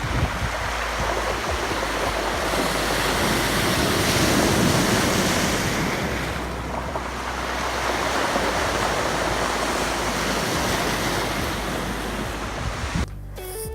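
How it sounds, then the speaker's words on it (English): Ocean waves washing onto a rocky winter shoreline, a constant loud rushing surge with a babbling brook-like trickle over the rocks, plus some wind buffeting the microphone and no voices. "you get the sound of the ocean when the waves come in"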